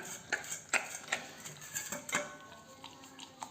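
A dog licking leftover ice cream from a bowl, making a run of small, irregular clinks and wet taps against the dish, close by and fairly quiet.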